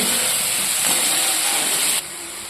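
Masala frying in a pan for a cabbage curry with fish head gives a loud, continuous sizzling hiss that abruptly softens near the end.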